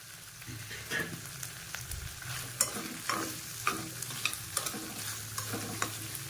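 Onion, green chilies and capsicum sautéing in a pan for a chicken fry, with a steady low sizzle and repeated scrapes and clinks of a spoon stirring through the pan, close and moderately loud, no talking.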